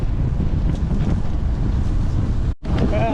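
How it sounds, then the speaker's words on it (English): Strong wind buffets the microphone during an outdoor ride up a hill in Indiana, a continuous loud roaring rumble with one brief dropout near the end. "Did I say it was windy? It's getting out of hand."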